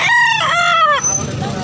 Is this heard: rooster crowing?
yes